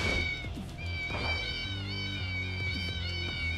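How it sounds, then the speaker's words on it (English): A game cat in Yakuza 0 lets out a long, loud, wavering meow that is repeated in sustained cries over game music and rumbling low sound effects. "the meowing is much louder"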